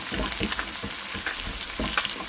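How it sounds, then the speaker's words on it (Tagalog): Onion sautéing in a pan for callos, a steady close sizzle of frying with soft stirring scrapes throughout and no talk. "Onion, gisa."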